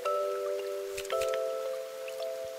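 Rain weather in the video game My Sticker Book produces a few soft, scattered drips and splashes over steady sustained tones from the game's background music.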